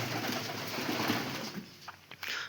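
Pigeons coo softly against a steady background hiss, with a few brief rustles near the end.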